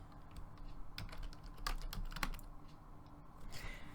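Someone types text on a computer keyboard while working on a Cricut design. The keys click in quick, uneven bursts at close range over faint room noise, with a few sharper, louder keystrokes in the middle.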